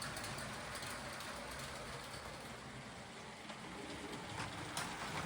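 LEGO trains running around a layout give a continuous rattling, clicking rumble of small wheels on plastic track, steady and moderately faint, with no voices.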